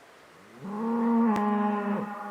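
A cow lets out one long, deep moo at a remote camp in Montana, close and clear, swelling for about a second and a half with a sharp click partway through.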